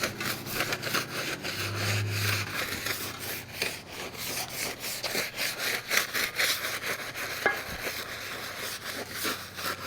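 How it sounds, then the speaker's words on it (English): A power sander works on a wheel around the area where it bolts on, giving a steady, loud rasping grind that runs continuously and close by with rhythmic scraping pulses and no talk. "I'm also going to get the sander out and sand it up where the wheel bolts on."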